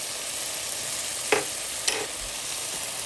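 Onions and a heaping tablespoon of garlic frying in a pan, a soft continuous sizzle with two brief utensil scrapes of stirring partway through.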